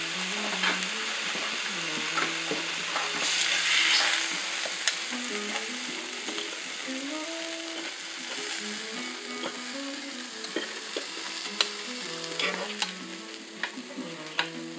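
Steak sizzling steadily in a frying pan, a constant hiss and crackle of fat with occasional sharper pops and faint stirring, moderately quiet and with no voices.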